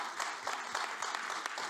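Applause from the audience at a French awards ceremony greets an honoree, a short burst of brisk, moderately loud clapping with several distinct hand claps.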